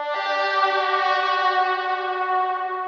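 Sustained synth lead tone with rich stacked harmonics, drenched in fully wet reverb that smears it into a steady, washed-out echoing drone, loud and alone without any voices.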